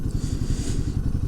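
A Himalayan 450 motorcycle's gearbox gives a close, rhythmic mechanical clatter over the low idle of the engine, repeating evenly through a brief moment.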